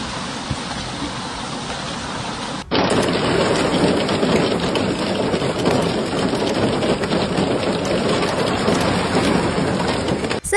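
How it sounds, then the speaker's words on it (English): Heavy rain and hail pour down during a storm in Saudi Arabia, a dense, loud hiss that jumps sharply in intensity partway through and then roars on steadily with no voices. "Heavy rain, hail and snow in Saudi Arabia has caused significant"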